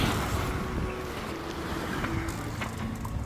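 A Beneteau sailboat runs under main and jib with the motor assisting in light wind on the Gulf of Mexico, a steady rush of wind and water over a low engine drone.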